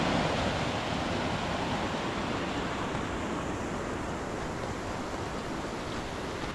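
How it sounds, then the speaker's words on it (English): The Sandy River flows along the Timberline Trail around Mt Hood, a steady, even rush of water heard from nearby with no break or change in level. "That's the Sandy River"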